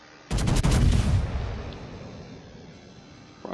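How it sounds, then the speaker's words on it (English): A battleship's broadside roars out in a naval combat video game, several heavy gun blasts fired close together that merge into one booming salvo and then rumble away for a couple of seconds. "Broadside shot on Musashi."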